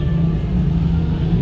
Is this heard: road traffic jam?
yes